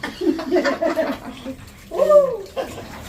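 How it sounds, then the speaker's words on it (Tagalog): Water splashes and sloshes in an inflatable pool as people play in it, with voices and laughter mixed in and a louder burst of splashing near the end. "Lumusog sa tubig, lumusog sa tubig."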